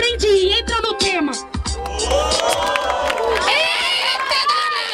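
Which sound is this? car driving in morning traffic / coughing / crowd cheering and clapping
crowd cheering and clapping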